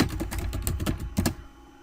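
A command being typed on a computer keyboard, a quick close run of clicky keystrokes in steady rhythm ending with a couple of firmer taps, then quiet.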